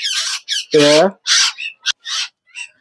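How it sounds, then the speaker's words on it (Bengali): A pair of Indian ringneck parrots at a bird farm give a run of loud, close squawks and harsh screeches in short separate bursts, one longer, lower call in the middle. "এই জোড়াটাও রিংনেক, ইন্ডিয়ান রিংনেক পাখি"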